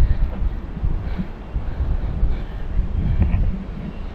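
Strong wind at sea buffets the microphone in a steady, low, roaring rush of noise with uneven gusts, heard on its own.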